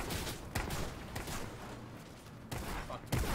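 Several scattered gunshots ring out in a first-person shooter, sharp cracks spaced irregularly over a constant background hiss, moderately loud.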